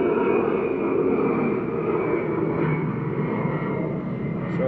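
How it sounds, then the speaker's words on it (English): An aircraft passes overhead outdoors, making a steady broadband roar that stays loud and constant throughout without breaks. "Sorry about the noise from the aircraft"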